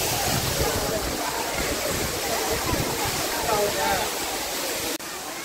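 Courtallam waterfall in the Agasthiyar hills pours as a steady, loud, broadband roar of falling water that continues without a break. A voice talks under it.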